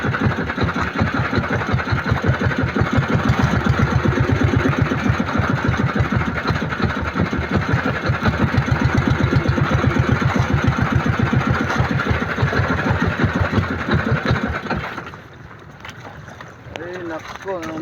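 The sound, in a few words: boat engine idling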